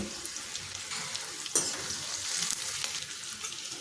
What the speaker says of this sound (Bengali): এখন পেঁয়াজ আর ক্যাপসিকামটা ভেজে নিতে হবে, খুব বেশি ভাজবো না